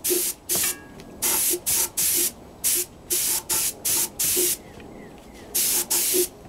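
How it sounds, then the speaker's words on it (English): A spray gun applying clear coat to a Kawasaki wheel hisses in repeated short bursts, about a dozen even pulses separated by brief pauses, loud and close. "first coat of clear going on right now."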